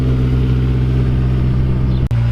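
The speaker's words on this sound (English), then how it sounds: "That low-key sounds pretty badass. Little tiny Miata. Sounds all deep and everything." A small Mazda Miata MX-5 engine drones steadily nearby with a deep, low exhaust note, holding a constant idle-like hum, briefly cutting out near the end before resuming even louder.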